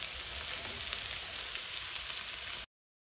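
Steady, close sizzling of cabbage and pepper frying in a pot for chicken and cabbage stew, an even hiss that holds for a few seconds and then cuts off.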